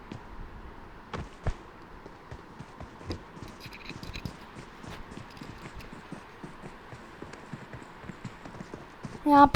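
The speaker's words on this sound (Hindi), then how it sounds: "यहाँ पे मेरे को फुटस्टेप्स आए" Footsteps sound in a shooter video game, a quick series of soft, evenly paced thuds that keeps up throughout, with a few louder knocks and a sharp burst at the very end.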